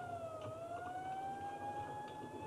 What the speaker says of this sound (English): It's the ambulance heading out now.